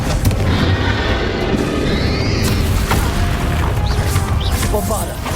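Confringo fire-blast spell explosions in Hogwarts Legacy combat, dense booming crashes and impacts layered over busy battle effects, loud and continuous throughout.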